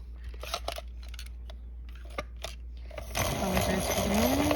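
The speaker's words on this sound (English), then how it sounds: "Let me sharpen my pencil back." A pencil is sharpened with a sharpener during a coloring session, a few short scraping turns followed by a louder continuous grinding whir close to the microphone.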